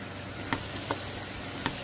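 Potatoes fry in a pan with onions, tomatoes and jalapeno, a constant sizzle broken by three sharp utensil taps against the pan; no talking.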